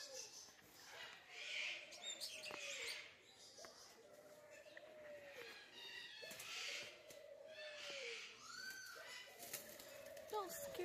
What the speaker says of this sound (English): Don't scare the birds.